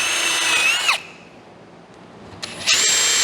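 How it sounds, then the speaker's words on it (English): Power drill marking holes through a form into a plank board for a DIY solar panel ground mount, two loud whining bursts separated by a short quiet pause. "You don't have to drill the whole hole,"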